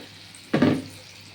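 Cauliflower pieces dropped into hot oil in a pan, a single sudden sizzling burst that rises sharply, then fades over about half a second against a quiet background.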